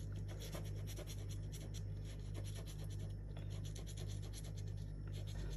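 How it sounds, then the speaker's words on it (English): Steady scratchy rubbing of an eraser on paper removing pencil lines, a rapid back-and-forth scrubbing that continues throughout, over a constant low hum. "I'm going to take a rubber and rub out the lines I don't need"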